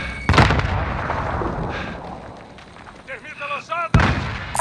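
Thermite and grenade blasts boom loudly in a competitive video game match, two heavy bursts bracketing a stretch of crackling burn, while players shout over the action.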